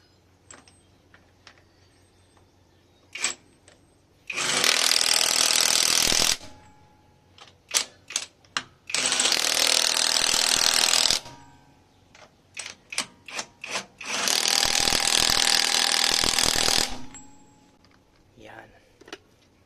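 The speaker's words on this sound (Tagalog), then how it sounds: "Yung higpit ng ating impact wrench" An impact wrench tightens lug nuts on a 2024 Toyota Wigo at low speed, firing three loud, sustained hammering bursts of about two seconds each, separated by sharp clicks and rattles of handling between runs.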